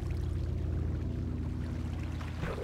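Flowing waterfall water in a video game, a steady, dense rushing wash with a low rumble that continues unbroken throughout.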